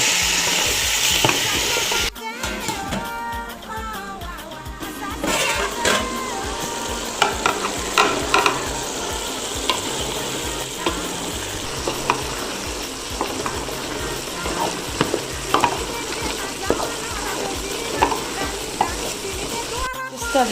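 Carrots and ingredients stirred in a pot over high heat for a Comorian tuna pilau with coconut milk, a steady close sizzle with scraping spoon strokes running throughout, joined by low kitchen rumble and brief background talk.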